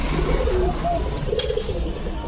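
Pigeons of beauty, Danish and Saharanpuri breeds coo in low, soft calls at a pigeon market stall, close and repeated over a busy background hum, with voices nearby.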